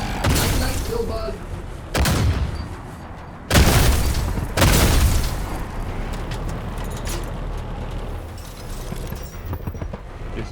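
Gunfire and booming blasts in the sci-fi tank combat game TankHead: several heavy, reverberant shots over a constant rumbling engine bed.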